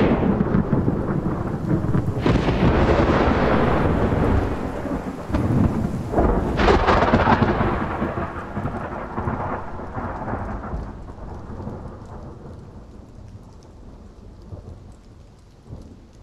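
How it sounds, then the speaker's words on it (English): Rolling thunder over steady rain on open Navajo land in the USA, two loud cracks near the start and middle swelling into long rumbles that fade away while the rain keeps falling. "It's time for the thunder to return and awaken the living world."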